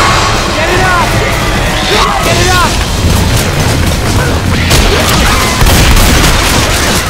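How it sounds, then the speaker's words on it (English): Pipe bomb blast in the Left 4 Dead 2 zombie shooter, a deep boom within continuous loud game chaos of gunfire, zombie yells and shouting players, with no calm gaps. "Throw the pipe bomb."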